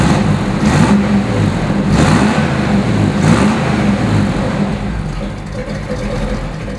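A 1963 Chevrolet Impala SS convertible engine runs steadily up close, a low rumbling idle with a few slight revs, loud and continuous with no talking.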